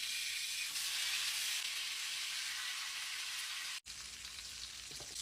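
Dried fish (bulad or tuyo) frying in hot oil, a steady, close hiss of fine crackling and sizzling that runs throughout, with one brief dropout.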